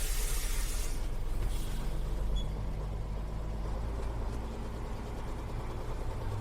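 Vintage Volvo N88/F88/F89 truck engine rumbling at a steady idle, a deep continuous low throb heard close, slightly louder at first then settling.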